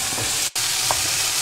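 Chicken curry pieces sizzle and fry steadily in a hot pan, with light stirring scrapes and a brief pause partway through, close and continuous.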